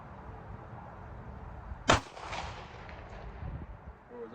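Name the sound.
Glock 48 pistol gunshots at 200 yards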